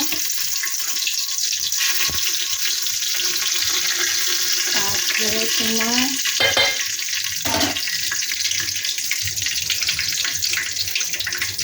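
Bay leaf and whole cardamom and cinnamon fry in hot ghee in a pot, giving a bright, continuous close sizzle, while someone speaks briefly over it midway.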